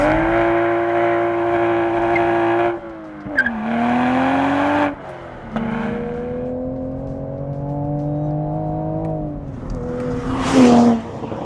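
A Toyota GR Supra engine revs hard and pulls through rising gears, its steady harmonic drone climbing with brief dips at the shifts and a sharper surge near the end, loud and close with no talk.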